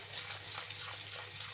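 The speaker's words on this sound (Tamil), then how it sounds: "உடனே ஒரு 2-3 தடவை நல்லா கழுவிட்டு கொஞ்சம் தண்ணி வடிய விட்டுடலாம்." Black urad dal being washed in water, a faint, continuous swish and trickle of liquid at close range.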